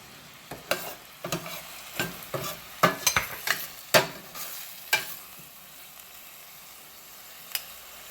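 Finely chopped ginger sautéing in a curry pan: a quiet background sizzle punctuated by a dozen or so sharp stirring scrapes and clacks in an irregular rhythm, fading to just the soft hiss near the end.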